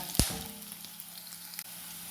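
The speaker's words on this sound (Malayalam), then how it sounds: "ഇത് നന്നായിട്ടൊന്ന് നമുക്കൊരു ഇഞ്ചിയുടെയും വെളുത്തുള്ളിയുടെയും ഒക്കെ ഒരു പച്ചമണം മാറുന്ന വരെ ഒന്ന് മൂപ്പിച്ചെടുക്കാം" Ginger and garlic sizzle steadily in a hot pan, a continuous close frying hiss with a sharp clatter near the start and a faint knock later, no voices.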